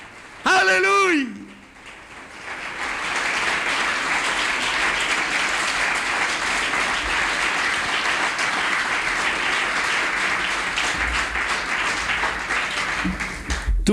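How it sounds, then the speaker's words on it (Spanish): A church congregation applauds steadily and loudly for most of the stretch, a dense wash of clapping that follows a short burst of sung or shouted voice at the start. "Tu mano es para aplaudir, ya no para pecar. Aplaude."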